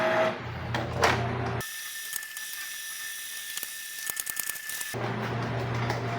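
Canon G-series inkjet printer running a deep head-cleaning cycle, a steady mechanical whir with ratcheting clicks and gear chatter for several seconds, quieter rhythmic clicks between louder motor stretches.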